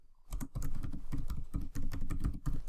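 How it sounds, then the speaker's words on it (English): Rapid keystrokes on a computer keyboard clatter in quick irregular bursts with brief pauses, close and clear, no talking. "So I'll just type in here"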